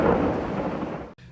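A heavy thunderclap booms in Goiânia just after a lightning strike, a loud broad rumbling roar that holds steady and then cuts off abruptly.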